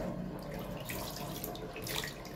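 Tap water runs steadily in a rusty stainless steel sink being rinsed after cleaning, a continuous close splashing hiss with no voices over it.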